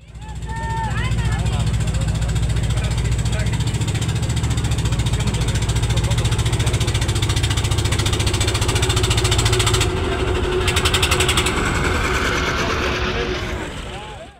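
A trawler's engine idles steadily at a river ghat on the Shitalakshya, where water hyacinth chokes the crossing, a continuous low throbbing rumble that runs loud and constant throughout, with some shift in background noise near the end.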